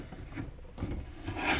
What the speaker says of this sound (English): I'm just going to take it and hit it with some rough grit sandpaper.